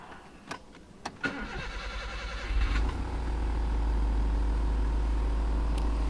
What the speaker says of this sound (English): start up the engine here just to show you that it works